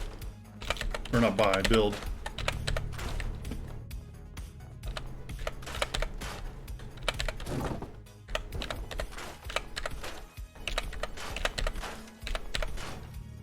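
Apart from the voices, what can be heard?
typing on a computer keyboard while playing Fallout 4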